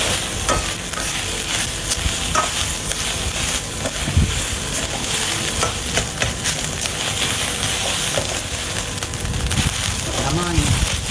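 Food stir-frying in a frying pan held low over a stove burner, a loud continuous sizzle and crackle with scraping of stirring and occasional tossing, with a voice speaking intermittently over it.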